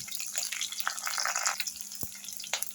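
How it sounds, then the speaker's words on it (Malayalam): Ginger, garlic, green chili and curry leaves sizzle in hot oil with fenugreek seeds in a pan for a tuna fish curry, giving a steady close frying hiss with a few sharp pops and crackles. "ഉലുവ പൊട്ടിത്തുടങ്ങുമ്പോഴത്തേക്കും ഇഞ്ചി വെളുത്തുള്ളി പച്ചമുളക് എന്നിവ ഇടുക കുറച്ച് കറിവേപ്പിലയും"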